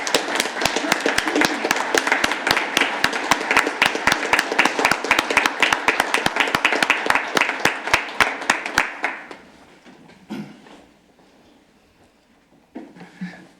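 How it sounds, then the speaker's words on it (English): A modest crowd at a city council meeting gives firefighters and deputies a round of applause, with close, distinct claps for about nine seconds before the clapping stops and a few scattered sounds and rustles follow in the quiet. "Can we give the firefighters and our deputies just a round of applause?"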